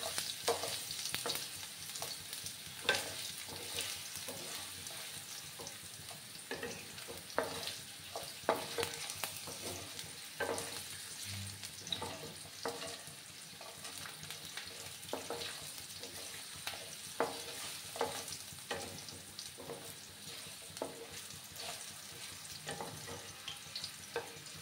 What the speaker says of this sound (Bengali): আলুগুলোকে আমি 2 মিনিটের মতো একটু ভেজে নিচ্ছি।